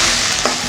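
Fish pieces fry in hot oil in a pan, giving a loud, steady, dense sizzle across the whole short moment with no voices.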